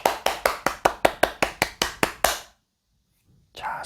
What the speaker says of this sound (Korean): 일단 박수부터.